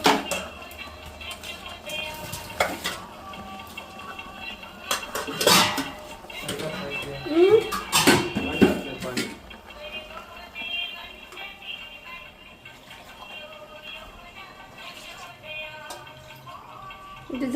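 Pots and lids are washed in a kitchen: metal clanks, clatters and scrapes of cookware come in irregular bursts, with a few sharp ringing knocks and light water sounds in between, and moderately loud clattering through the middle.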